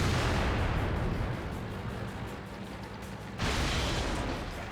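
An SU-100Y tank destroyer fires its 130mm gun in World of Tanks: a heavy, booming blast over dense rumbling battlefield noise, with a second sharp burst a few seconds later.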